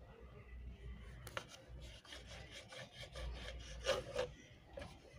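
A knife saws through soft bread slices, trimming away the crusts along the sides: quiet, close rasping strokes that come in short bursts and rise briefly toward the end.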